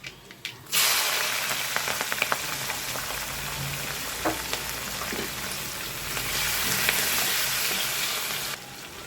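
Hot oil bursts into a loud, close sizzle as dried red chillies, asafoetida, onion and green chilli drop into the pan, then the hiss keeps on steadily, crackling and spitting, with a few clinks of a spoon.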